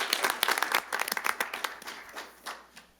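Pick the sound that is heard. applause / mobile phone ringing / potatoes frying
applause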